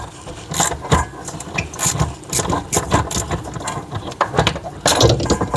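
Ratcheting tool loosening fittings on an old bathroom faucet in a tight space, a series of rapid clicking bursts in irregular strokes, close and fairly loud.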